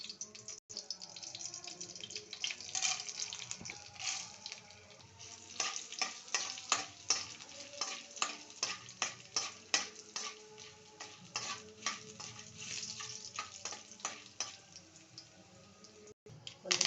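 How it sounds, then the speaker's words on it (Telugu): Tempering spices sizzling in hot oil for beetroot rice, a soft crackling hiss with quick popping bursts and spoon stirring, fairly quiet and close, building in density toward the middle, no talk over it. "పోపు ఉడుకుతుంది."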